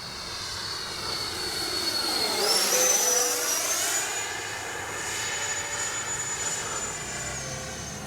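A Freewing F-14A Twin 64 Tomcat RC jet with twin ducted fans passes overhead in a loud, high whine that rises and Doppler-bends as it sweeps by, then settles into a steady distant roar, with no talking.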